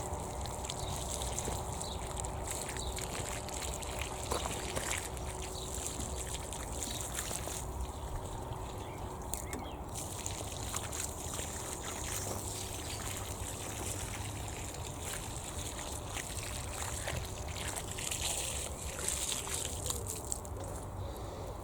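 Water trickles and pours steadily while garden plants such as marigolds and cosmos are watered outdoors, a soft continuous stream that stays at an even level throughout without any talk.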